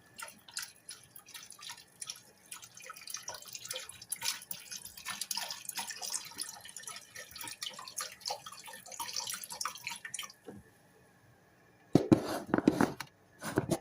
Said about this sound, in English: I add the water base inside the pot with the onions